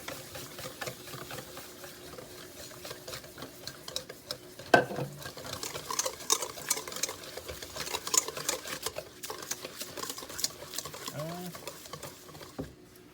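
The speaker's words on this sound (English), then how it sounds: "So we got 1 1/4 cups of cornmeal. Just going to stir that in." A spoon works cornmeal into cornbread batter in a bowl, making soft, continuous, close-up scraping and thick swishing with some uneven knocks against the bowl.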